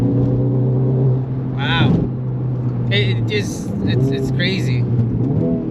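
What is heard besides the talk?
tuned Honda Civic Type R FL5 accelerating through corner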